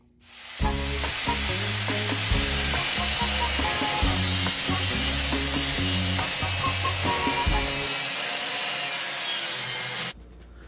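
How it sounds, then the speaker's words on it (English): Metal on a GMC motorhome's radiator frame is cut with a power tool. The harsh grinding and rasping runs loud and close for about ten seconds with uneven strokes, then stops abruptly. No voices are heard. "we're gonna cut this off right here on both sides of the radiator frame"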